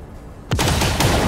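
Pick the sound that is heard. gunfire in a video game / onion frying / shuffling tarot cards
gunfire in a video game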